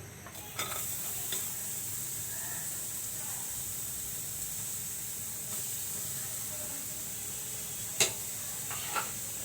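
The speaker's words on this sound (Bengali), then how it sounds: "এখন আমি পেঁয়াজ দিয়ে দিচ্ছি" Chopped onions hit a hot kadai (wok) and sizzle in a steady, loud hiss, with a few sharp clicks of stirring scattered through it. No one speaks.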